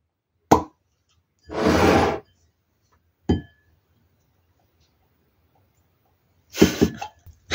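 Water poured out of a small test tube in a Lab Swarms toy kit: a short splashy gush between a few sharp clinks and knocks of plastic and glass, close and fairly quiet.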